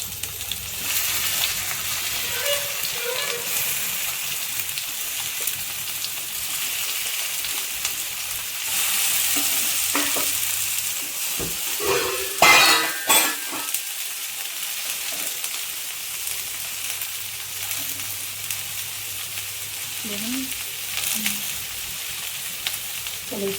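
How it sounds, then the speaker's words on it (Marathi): Pineapple pieces frying in ghee in a pan on a gas stove, a steady soft sizzle that continues throughout, with a few brief stirring clatters partway through. "थोडंसं असं तूप टाकायचं. त्याच्यात आपण ते पायनॅपल टाकूया."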